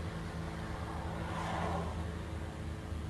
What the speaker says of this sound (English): The armed men are on the motorbike, and the car turning as it sees us filming.